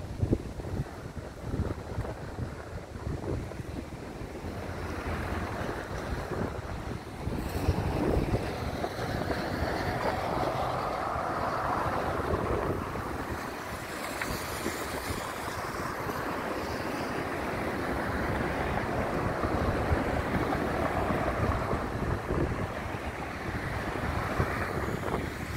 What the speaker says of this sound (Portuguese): Que eu acho lindo essa beleza do mar, água azulzinha